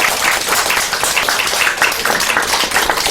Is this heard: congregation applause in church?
yes